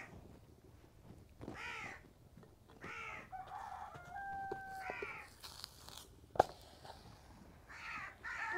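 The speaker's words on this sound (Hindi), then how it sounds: "कौवे इतना ज़्यादा आज तंग कर रहे हैं ना" Crows caw repeatedly outside a mud house in a Pakistani village, several hoarse calls spaced a second or two apart at moderate distance, with light household clatter and a sharp knock in between.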